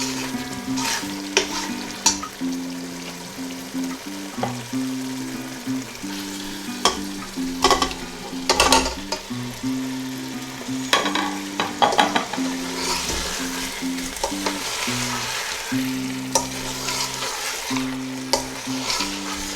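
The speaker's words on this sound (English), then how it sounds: "So the paste been fried really well and it has started to leave oil now." A thick kofta curry paste fries and sizzles loudly in a pan, with continuous bubbling hiss, repeated spoon stirs scraping the pan and a steady background tone.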